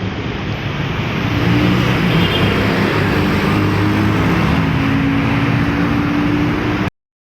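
A light rail (LRT) train ride heard from inside the car: a loud, steady rumble with low droning hum and broadband rushing noise that holds constant throughout, with no talking.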